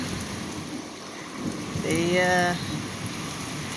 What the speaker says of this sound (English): Got some lightning, thunder, plenty of rain.